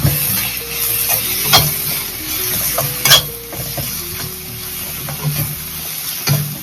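Chili powder sizzling in hot oil while a spoon stirs it steadily, a close, continuous frying hiss broken by the light scrape and clink of the stirring, with no talking.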